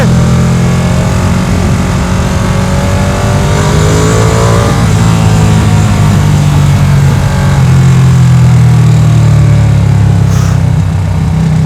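A Ducati Panigale V2 sport motorcycle with a V-twin engine revs hard and loud and close up, a steady, deep, throbbing roar that climbs and falls in pitch under the throttle, with no talk over it.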